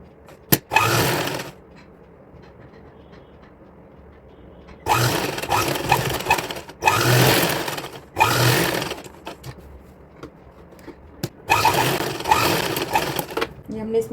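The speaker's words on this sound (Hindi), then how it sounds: "ये हमने इसमें सिलाई लगा ली।" Sewing machine stitching a designer dress for a four- or five-year-old girl, running in several loud bursts of rapid whirring separated by quiet pauses, close by.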